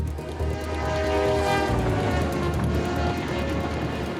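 A 152-car empty coal train rumbles past in the Rocky Mountains with a loud, steady roar and a low drone, plus a faint high tone, and no voices.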